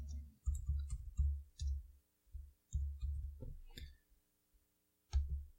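Computer mouse clicks and keyboard typing while setting up a virtual machine, heard as close, crisp irregular clicks and taps in short bursts with pauses between them.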